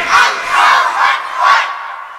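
A large crowd at an Islamic religious sermon gathering roars a unison takbir chant, three loud swelling shouts in steady rhythm with no single voice standing out.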